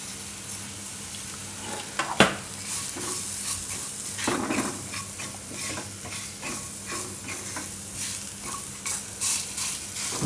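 Garlic and whole cumin sizzling in a little oil while being stirred for a taro-stuffed paratha filling. A steady, moderate sizzle runs under scattered scrapes and clinks of a utensil against the pan, with no talking.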